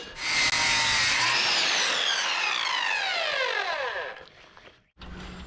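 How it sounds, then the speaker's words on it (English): A saw cuts a 10 inch 2x lumber board to length on a home addition build, a loud whining cut that rises and then drops in pitch as the blade spins down, followed by a brief pause and renewed motor noise. "we're cutting it 18 inch our total length. We'll cut that real fast."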